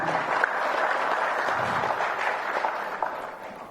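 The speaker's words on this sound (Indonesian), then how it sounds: "Boleh tepuk tangan." Crowd applause at an Indonesian political event announcing presidential candidates, steady clapping across the hall with a few louder claps standing out, no speech over it.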